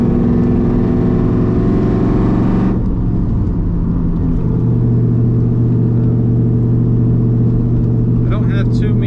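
Inside a 2001 Mustang Cobra, engine drone drops off sharply as the driver lets off the gas, leaving a steady low hum and faint rear differential whine under the rolling road rumble.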